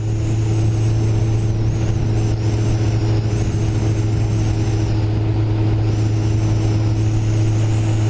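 A Kawasaki ZX14R motorcycle cruising on a road, a steady, loud engine drone with a constant low hum and rushing wind noise throughout, no noticeable revving.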